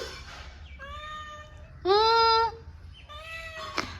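A house cat that lounges on the sofa meows several times in close succession, the calls clear and nearby, one louder and longer than the rest, over a quiet room.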